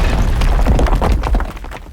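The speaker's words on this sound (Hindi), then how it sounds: "तह खाने की धरती एक धमाके से फट गई।" A basement floor bursts open in a horror comic with a loud, deep booming rumble that rolls on for about two seconds, then fades away.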